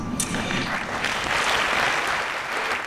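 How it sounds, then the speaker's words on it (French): Applause for actress Jane Fonda, Prix Lumière 2018 honoree, from an audience in Lyon, a dense, steady wash of many hands clapping throughout with no voices standing out. "Tonnerre d'applaudissements pour Jane Fonda, prix Lumière 2018"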